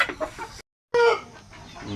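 Native chickens in a breeding pen cluck loudly and close by in short bursts, broken by a brief silent gap before more clucking.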